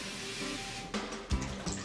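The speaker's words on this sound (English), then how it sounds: "do a quick rinse with cold water" Cold tap water runs steadily over canned fava beans being rinsed in a strainer, a continuous splashing wash with a couple of louder gushes near the end.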